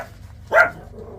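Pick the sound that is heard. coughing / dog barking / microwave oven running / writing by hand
dog barking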